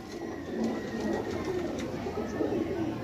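A female Kasuri pigeon coos in a low, soft, continuous murmur, close by, against a steady background hum with no talking.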